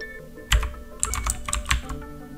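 Someone types on a computer keyboard at close range: uneven bursts of crisp key clacks with a few louder strikes and short pauses in between, and no one talking.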